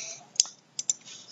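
Computer keyboard keys pressed as a Shift plus F shortcut: one sharp click, then a quick pair of clicks, close and crisp with quiet in between.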